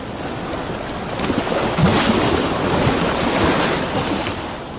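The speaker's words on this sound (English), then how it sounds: "A monstrous wave lifted the craft and its passengers airborne." Rough surf surges and crashes close by, mixed with gusting wind buffeting the microphone, a loud continuous roar.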